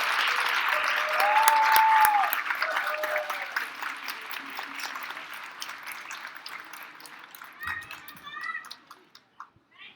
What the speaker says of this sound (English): How about another round of applause for the class of 2018?